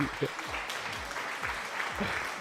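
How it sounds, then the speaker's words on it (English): A livestream group claps for a community member called Flea, a brief patter of hand claps over a steady wash of noise and background music. "People applauding for Flea."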